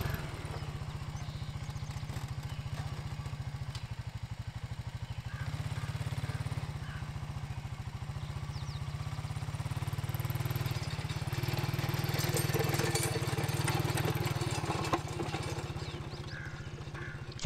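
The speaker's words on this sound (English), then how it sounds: "here I'm just using a blade to try to scrape it off to the side." An ATV fitted with a Black Boar blade scraping the top coat off gravel, a steady close engine drone with a low throbbing rumble and gritty scraping texture, rising slightly as it pushes the load.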